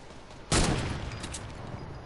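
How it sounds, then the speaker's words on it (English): A single loud gunshot bursts out in a shooter video game, followed by a dense continuing spatter of rapid gunfire and impact noise that stays loud over the remaining two seconds. "Ow, who's shooting me?"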